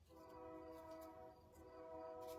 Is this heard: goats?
no